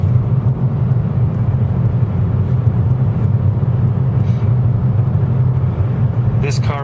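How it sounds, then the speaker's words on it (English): A 2013 Nissan Altima 3.5 SL pulls hard under full throttle, heard from inside the cabin as a steady, loud low drone with road rumble throughout. "I will drop it down and mash that pedal and show you what happens."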